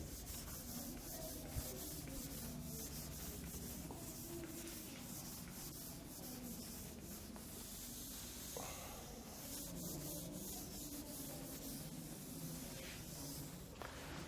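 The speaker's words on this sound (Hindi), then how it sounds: "मैं इसको रब कर दे रहा हूं इधर वाला" Writing is rubbed off a board with a steady, faint scrubbing and hissing rasp that continues for several seconds with small shifts in pressure.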